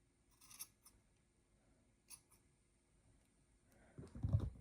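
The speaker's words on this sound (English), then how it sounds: "I usually like to trim off these little long tails" Scissors snip the loose yarn tails on a handmade crochet bunny, a few quiet close snips and clicks at the start, then a louder rustle of handling near the end.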